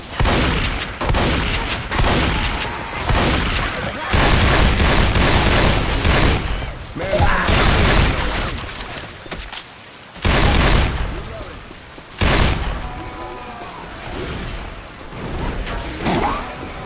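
Rapid bursts of gunfire and heavy blasts fill a Left 4 Dead 2 game session, close and loud, with players talking over the shooting and short lulls between volleys.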